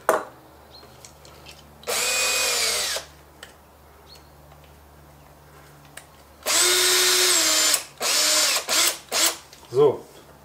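An Einhell cordless drill driver drives into an existing screw in two long sustained whirring bursts, followed by several short stuttering pulses as it stalls, with quiet pauses in between.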